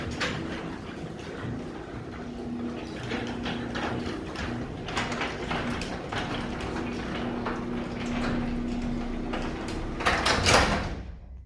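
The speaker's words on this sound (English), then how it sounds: "It's the UL approved method of testing the reverse sensitivity of a garage door." Overhead residential garage door running down onto a 2x4 laid across the threshold, then reversing: a steady mechanical hum with a drone through most of the stretch, rattling knocks along the way, and a louder clunk near the end.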